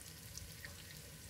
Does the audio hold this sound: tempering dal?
yes